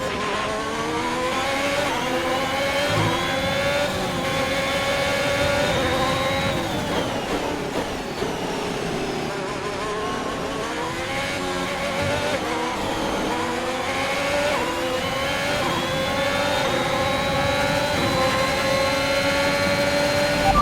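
A Formula 1 car in F1 2021 racing at the Canada circuit, its worn combustion engine revving loud and continuous, pitch climbing and falling through gear shifts, with no talk over it.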